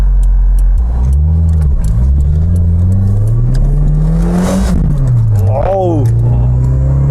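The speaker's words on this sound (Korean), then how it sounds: "엄청난 고회전형 엔진이에요" A Toyota AE86 Sprinter Trueno's high-revving engine revs hard past 5,000 rpm and climbs to a high-pitched whine, dips, then surges again, loud and close, with a voice talking over it.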